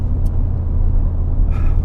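Ford Focus RS engine idling at low revs on a cool-down lap at Goodwood after a session, a steady, loud, close rumble that holds even throughout, with no talk.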